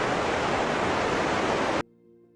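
Broad, steady roar of a large waterfall plunging some 250 meters down jagged cliffs in a Thai forest, loud and continuous before cutting off abruptly near the end, leaving a faint low hum.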